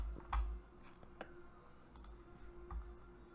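A computer mouse clicks a few times in a quiet room, giving short sharp ticks scattered over a few seconds with a low hum underneath.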